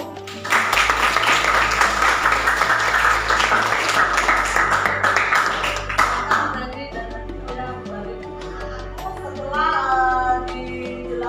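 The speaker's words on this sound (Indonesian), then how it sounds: "Kita beri tepuk tangan dulu" A school class claps together for several seconds, loud and close, before the clapping dies away and a few tonal sounds remain in a quieter room.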